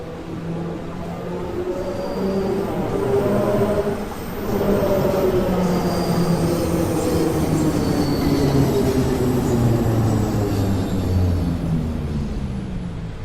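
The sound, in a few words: air rush sound of train in Train Sim World 2 video game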